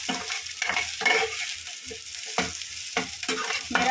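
Chopped, washed capsicum frying over a lowered flame in a small pan, a soft steady sizzle broken by repeated scraping stir strokes of a spatula, close and moderately loud.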